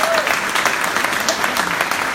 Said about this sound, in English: To introduce Marcy Nettles Please give her a round of applause.